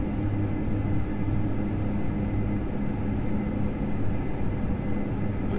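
Steady turboprop drone of Dash 8 Q400 engines in the FSX flight simulator, a constant loud rumble with tonal hum and no clear rise in pitch, running alone without talk.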